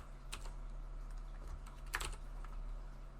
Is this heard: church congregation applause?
no